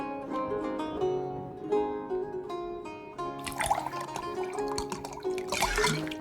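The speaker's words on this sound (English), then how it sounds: "That's how you pour wine properly." A gurgling stream of wine fills a cup in the video game Card Shark, starting midway and continuing as a lively splashing trickle over ongoing background music.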